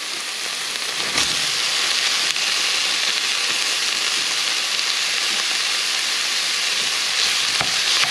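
Meat fries in a pan while cooking a Maltese baked rice dish, a steady, dense, bright sizzle that holds loud and even throughout, close by, with no talking.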